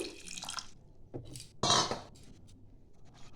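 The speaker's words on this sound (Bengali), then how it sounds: "এখানে দিয়ে দিচ্ছি জল পরিমাণ মতন" Water is poured into a cooking pot holding large chunks of potato for a mutton kheema ghugni, with a short splashing burst in the middle between quieter clinks and drips.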